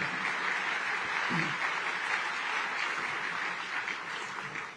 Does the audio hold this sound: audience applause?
yes